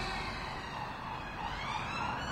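A wailing emergency siren sounds steadily through the whole stretch, fairly distant and continuous, over a dense background hum, heard at night from a cemetery and park in Kings Norton.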